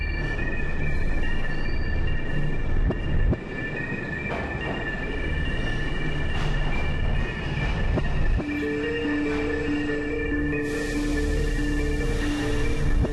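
A New York City subway train rumbles past with rattling wheels and a rising squeal and hum of motors, loud and continuous throughout.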